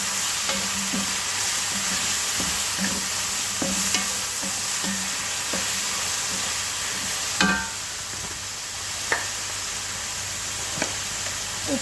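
Tomatoes tipped into frying onions in a pan for chicken biryani, stirred with a steady sizzle and repeated light scrapes and taps of the spoon, near and continuous without talk.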